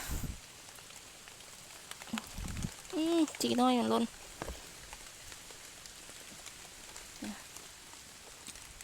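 Rain falling steadily outdoors during mushroom foraging, a constant soft patter throughout, with a person speaking briefly over it in the middle.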